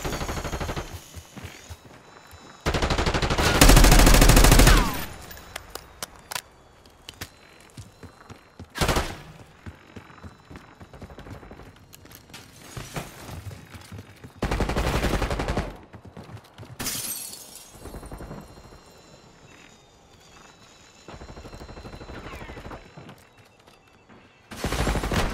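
Call of Duty video game gunfire: bursts of loud automatic fire and sharp shots with shattering impacts, separated by quieter gaps, with no talking.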